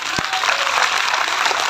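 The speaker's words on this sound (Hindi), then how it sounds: "जोरदार तालियां।" Loud audience applause fills the hall at a Shrimad Bhagwat Katha religious discourse, a dense, steady roar of clapping from start to finish with no break.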